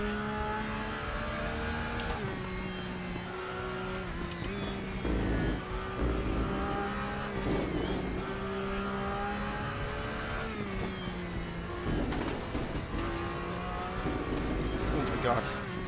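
A GT3 race car on the Nordschleife in a racing game revs hard through climbing gear pulls and shifts, its engine loud and continuous with other cars faintly nearby, while a voice talks over it.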